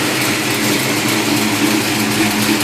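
A car with a 440 engine and a new exhaust idles loud and close, a steady deep rumble with slight fluctuations throughout.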